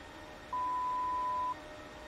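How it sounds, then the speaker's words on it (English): A PMDG 737-800 cockpit in a flight simulator gives a single steady electronic beep lasting about a second, clear over the constant low hum of the engines. "Not sure what that beeping is. It happens every now and then."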